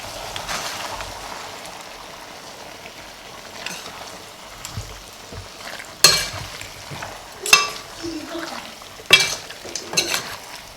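Curry chicken with coconut milk being stirred in a pot, with a steady low sizzle and a few sharper scrapes and clinks of the spoon toward the end, close by and with no talking.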